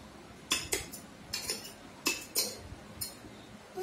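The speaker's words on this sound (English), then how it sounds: "Take 1 spoon of sand and stir it well" A spoon stirring sand in a glass of water, quick clinking taps of metal on glass in uneven bursts, close and fairly quiet with no talking.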